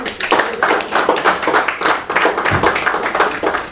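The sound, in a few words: audience clapping for Qalam Dost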